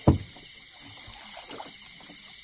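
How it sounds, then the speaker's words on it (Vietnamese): A paddle knocks against a small wooden rowboat on floodwater at night, with a sharp thump at the start followed by soft, low water swishes and splashes against a steady background hiss. "Bơi ghe lại."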